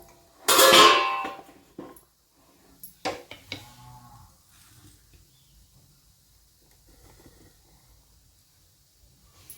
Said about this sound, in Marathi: आपण आता याचं झाकण काढूया